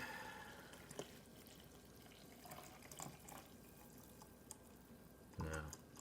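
Water poured steadily into a Nicpay French press coffee maker, a soft, quiet trickle and splash heard beneath a speaking voice.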